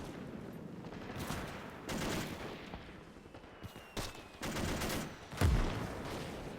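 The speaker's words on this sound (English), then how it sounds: "Our gun is still smashing away." Heavy gun repeatedly firing rounds in a WW2 Battle of Saipan combat game, a series of booming blasts and bursts at irregular intervals, loud and close with no voices.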